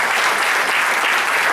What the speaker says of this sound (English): Can we have a round of applause for all the faculties of Kerala Sangha?